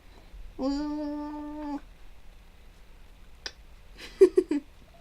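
A cat gives one drawn-out meow, then a short chirp and a quick run of small meows, close by in a quiet room.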